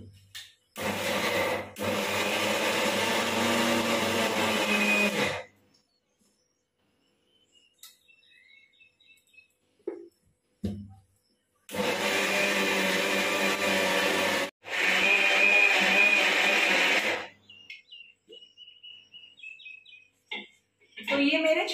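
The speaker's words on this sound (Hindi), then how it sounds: "इस उबाले हुए चने को मैं इस मिक्सर की जार में डालकर इसे पीस लेती हूँ।" Electric mixer grinder grinding boiled black chickpeas in its jar: two loud, steady whirring bursts of several seconds each, separated by a quiet pause with faint bird chirps and small clatters.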